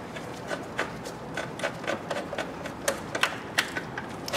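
A 13 mm wrench tightens a car battery hold-down, making a series of small, close, dry clicks and ratcheting taps in an irregular rhythm, quiet and alone.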